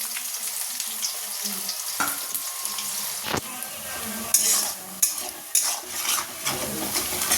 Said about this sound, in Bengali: এবার তেলে পেঁয়াজটা দিয়ে দেবো।